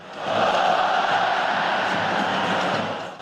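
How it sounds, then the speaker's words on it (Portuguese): A stadium football crowd chants olé in unison, a loud, sustained roar of many voices that swells in and holds steady for a few seconds before easing off. "O olé da torcida começou com o Fernando Lombardi."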